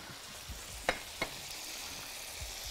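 Broth from cow's trotters poured over garlic and vinegar makes a soft, steady sizzling hiss, broken by two sharp clicks near the start, quiet and close with no talking.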